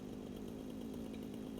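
A chainsaw wielded in the video game Satisfactory, a continuous buzzing motor drone held at an even pitch and quite faint, with no voices over it.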